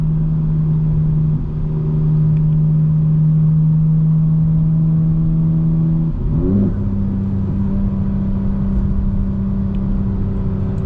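A 2025 BMW M4 Competition xDrive with a custom-tuned transmission holds a steady droning engine note that shifts pitch partway through as the car changes gear, loud and close with no talking.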